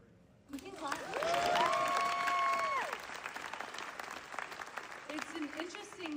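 An audience at the Time 100 gala breaks into loud, sustained applause that swells quickly and then eases to scattered clapping, with cheers and voices mixed in.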